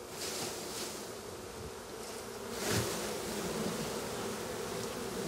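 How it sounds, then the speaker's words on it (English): A swarm of honey bees shaken into a box at an outdoor beekeeping field day gives a continuous, dense buzzing hum, moderately loud and steady, swelling briefly near the middle, with no talk over it. "So all the bees now will run into that box."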